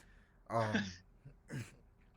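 Two short, harsh coughs close to the microphone, the first longer and louder, the second briefer, with quiet room tone between.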